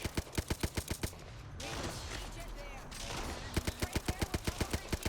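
Rapid automatic gunfire in a shooter video game, sharp evenly spaced shots in two bursts separated by a stretch of noisy in-game sound, with a player's voice talking over it.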